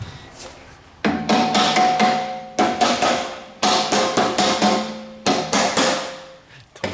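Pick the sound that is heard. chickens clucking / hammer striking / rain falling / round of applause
hammer striking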